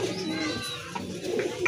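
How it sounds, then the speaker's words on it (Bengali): A pair of yellow magpie pigeons coo softly nearby in a brief, low murmuring call, with light background noise. "আরেক জোড়া ম্যাকপাই কবুতর, এটা অবশ্যই ইয়েলো কালার"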